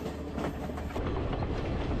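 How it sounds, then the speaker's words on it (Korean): Slow local passenger train in Sri Lanka rumbling along the tracks, a steady close clatter of wheels and carriage noise with no voices. "스리랑카 여행의 꽃은 바로 이 완행 열차인 것입니다"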